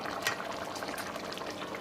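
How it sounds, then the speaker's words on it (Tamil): Tamil-style chicken gravy with added water bubbles and simmers in a pot. A constant close hiss of boiling liquid carries scattered small pops and bursts, with no voices over it. "இப்போ நல்லா தண்ணி ஊற்றி மிக்ஸ் பண்ணதுக்கப்புறமா நம்ம வந்து ஒரு 1/4 மணி நேரம் வேக வச்சுக்கலாம்"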